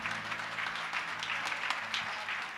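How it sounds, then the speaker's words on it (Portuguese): A church congregation applauds in praise, a dense, continuous wash of many hands clapping at once, steady and fairly loud throughout without breaks, with some low murmur beneath. "Pode aplaudir o Senhor."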